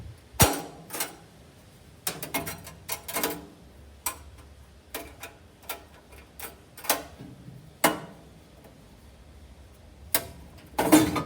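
Metal clanks, scrapes and rattles as the steel burn pot is lifted out of a Walmart Expert Grill pellet grill, sharp irregular knocks close by over about eleven seconds, no talk.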